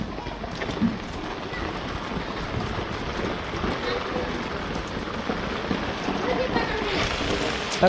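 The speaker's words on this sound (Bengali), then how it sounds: "প্রচুর পরিমাণে বৃষ্টি।" Heavy rain in a Bangladeshi village keeps up a steady, loud drumming hiss with scattered splashy drops, and a voice speaks briefly over it.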